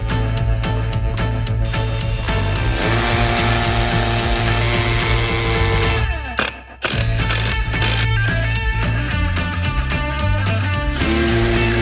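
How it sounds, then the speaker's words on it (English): A power drill whirs and grinds steadily, pre-drilling holes for concrete anchors into cinder blocks, close and loud, cutting out briefly partway before starting up again. "I'm gonna pre-drill my holes"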